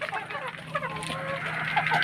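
Free-range chickens of mixed breeds, including Black Australorp, Barred Plymouth Rock and Rhode Island Red, clucking and squawking in overlapping honking calls close by over a steady low hum.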